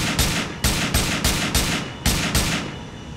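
Gunfire from a P226 pistol in a Grand Theft Auto IV weapon mod, fired as a rapid series of about eight loud, sharp reports at an even rhythm, close and with no talk.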